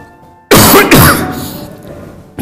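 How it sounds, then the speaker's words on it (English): A person with a bad, weeks-long cough gives two loud, harsh coughs close by in quick succession, then a faint trailing breath. "I am having a bad cough and it is difficult for me to do my work."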